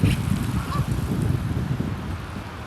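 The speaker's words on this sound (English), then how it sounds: "and some ducks." Ducks honking and quacking along the New York City waterfront facing Jersey City on a foggy day, a noisy continuous flock call heard over low background rumble.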